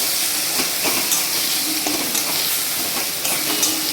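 Tomato, chili powder, turmeric and salt fry in a pan with a continuous close sizzle, broken by soft scraping stirs at irregular intervals.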